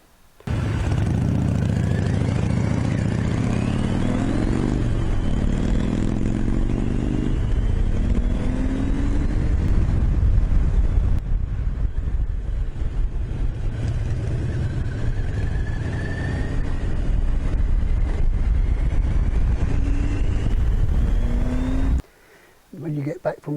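A 1994 Kawasaki GTR1000 motorcycle on a test ride after a final drive gear oil change gives a loud, steady engine drone with shifting pitch and wind rush for over twenty seconds before it cuts off abruptly.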